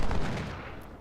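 Massed musket and artillery fire from a Civil War battle in the strategy game Ultimate General, Confederate forces assaulting a fort held by Union troops, heard as a dense, continuous rumble of distant gunfire that slowly fades.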